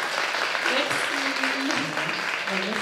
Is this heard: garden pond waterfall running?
no